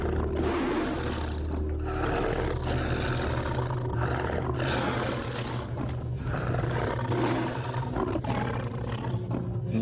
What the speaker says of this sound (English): they felt the physical effects of the tiger's roar